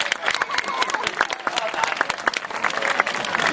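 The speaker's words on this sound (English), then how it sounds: "We'll have a nice clap for that one now." Spectators clapping at an outdoor sea lion show in an amusement park, a moderately loud patter of individual claps from a modest crowd, with voices mixed in.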